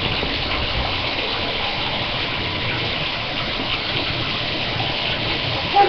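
A steady, loud gush of running tap water pours continuously while hands are washed beneath it, with no talk and only a slight change near the end.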